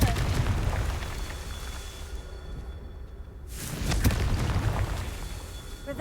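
A Confringo blast spell going off in a Harry Potter video game: a loud booming burst with a whooshing rush, a brief lull, then a second swell of rumbling explosive noise.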